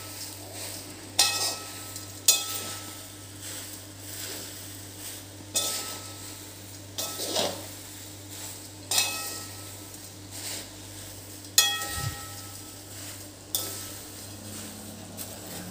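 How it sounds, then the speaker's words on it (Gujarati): A spoon stirs sifted nylon poha in a metal pan, giving repeated light scraping and clinking strokes at an irregular pace against a steady low hum, close and fairly quiet, with no talk. "હવે એને હલાવી દેવાના છે."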